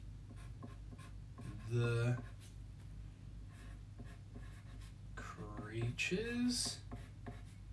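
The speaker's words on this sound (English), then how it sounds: "I'm going to write" A pen scratches and rubs across paper while letters are written, a faint steady scraping running under close, soft speech.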